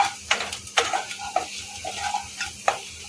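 Tadka pasta cooks in a pan over a low gas flame, with a soft, steady frying crackle broken by several sharp scrapes and clinks of stirring at irregular intervals, close and moderately loud with no voices.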